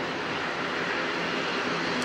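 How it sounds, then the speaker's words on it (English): A noisy ATR turboprop airliner at Auckland Airport on a windy day, its engine drone a steady, broad rushing roar held at even loudness from moderate distance, with no voices over it. "Another noisy ATR."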